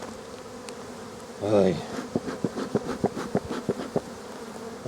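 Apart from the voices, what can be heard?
wasps and bees buzzing around beehives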